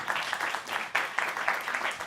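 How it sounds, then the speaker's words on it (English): Studio audience applauding for a guest on a TV show, steady moderately distant clapping from a crowd that continues throughout. "Another round of applause for Pepe, everybody."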